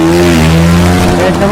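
Oregon team's Formula Student race car in an endurance event, engine droning loudly with a rising, shifting pitch as it approaches, under a commentator's voice.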